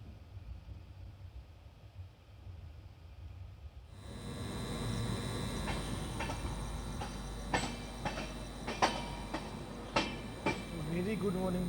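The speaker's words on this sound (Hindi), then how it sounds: "हमारी ट्रेन एंटर करने जा रही है सेवाग्राम जंक्शन" A long-distance express passenger train with LHB coaches rolling into Sevagram Junction before dawn, a steady rumbling roar with rhythmic wheel clacks and sharp rail clanks growing louder in the second half.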